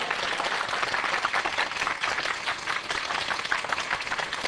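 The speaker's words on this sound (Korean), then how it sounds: "우리 주님 앞에 영광의 박수, 감사의 박수" Dense, sustained applause from a church congregation during a Korean pastor's Christmas-season sermon at a church in Daejeon, steady and loud throughout with no speech over it.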